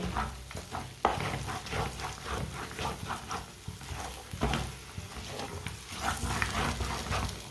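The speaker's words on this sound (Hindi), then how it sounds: "इसे 3-4 मिनट के लिए और पका लेना है, इसी तरह चम्मच चलाते हुए।" A spoon scrapes steadily through suji halwa cooking in a pan over raised heat, a rhythmic stirring rasp with soft sizzling beneath it, close and continuous.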